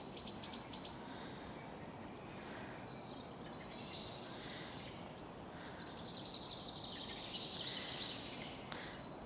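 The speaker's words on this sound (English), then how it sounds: "There's birds in the hedges." Small birds chirp faintly from hedges, short high tweets scattered over a steady, quiet outdoor hiss, with a brief cluster of calls near the end and no one talking.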